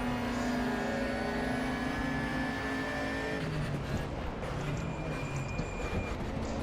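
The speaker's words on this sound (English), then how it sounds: "engine seems to be getting pretty seriously damaged. Might be because I'm redlining it too much" A damaged race car engine screams near the redline in the sim racing game Raceroom Racing Experience, a loud, continuous strained roar with shifting pitch and no talk over it.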